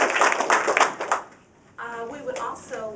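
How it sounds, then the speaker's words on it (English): Audience applause for volunteers at a National Night Out proclamation event, a brief close burst of clapping that fades before a voice resumes speaking. "So a round of applause for our volunteers"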